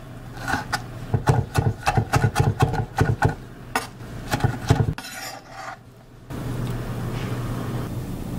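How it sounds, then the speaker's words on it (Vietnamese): A knife mincing a ripe red tomato chops rapidly on a board, a dense run of close, crisp knocks, followed by a softer steady rasp and scrape near the end. "Mình băm nhỏ ra một trái để chút nữa mình xào cho thơm nghe."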